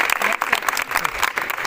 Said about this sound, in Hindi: सभी कोई ताली बजाइए